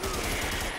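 Rapid gunfire from the dinosaur shooter game Primal Carnage, a steady burst of repeated shots crackling close and loud for under a second.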